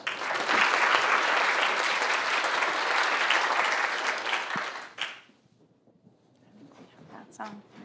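Audience applause at a wellness policy event, a dense burst of clapping that holds for about four seconds, then fades out, followed by quiet room noise and faint shuffling.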